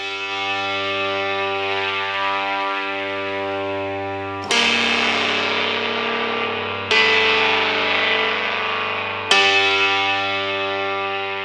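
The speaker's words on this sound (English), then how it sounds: "Devil Lock is definitely giving us the right type of distortion" A heavily distorted, buzzy sustained synth tone from the Devil Lock distortion plugin drones on, retriggered three times with a gritty, saturated edge and a touch of echo.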